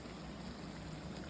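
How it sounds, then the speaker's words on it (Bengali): Coconut milk pours into a pan as a soft, steady trickle that stays faint and even throughout. "এবার আমি এই নারকেলের দুধ দিয়ে দেবো।"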